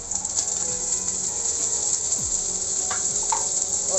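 Capsicum and onion fry in hot oil for a desi-style pasta, giving a steady, close sizzle with faint crackles and a few soft stirring clicks, and no one speaks.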